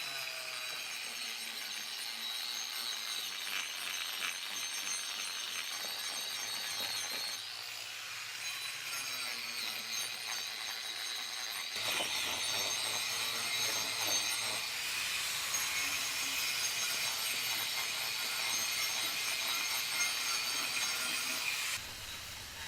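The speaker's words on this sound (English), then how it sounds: "I'm going to use a power carver." A power carver grinds into a walnut stump to rough out a planter bowl, a sustained high buzzing whine with gritty rasping that surges and eases across several passes, close and continuous.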